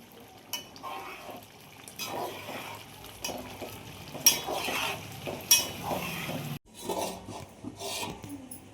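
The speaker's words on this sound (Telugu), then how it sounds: "ఒకసారి కలయి తిప్పాలి జాగ్రత్తగా." A spoon stirs mint rice in a cooking pot after salt goes in, with soft scraping and rustling strokes in an uneven rhythm and a few sharper clinks against the pot.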